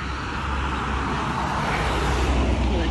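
Cars pass along a road in Austria, producing a steady wash of tyre and engine noise that hums continuously at moderate distance.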